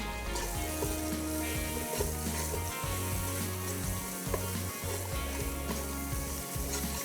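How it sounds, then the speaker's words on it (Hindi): Whole garam masala spices sizzle steadily in hot oil while being roasted for a coconut egg halwa, a dense continuous frying hiss with low rumbling underneath and no talk over it. "और ये साबुत गरम मसाला, ये गया। अब अच्छे से आपने इसको भून लेना है।"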